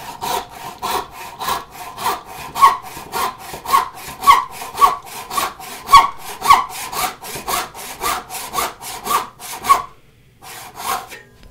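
A hand saw cuts through a wooden board for a corner bridle joint with steady, rhythmic back-and-forth rasping strokes, close and clear and roughly two per second, stopping briefly near the end before a few more strokes.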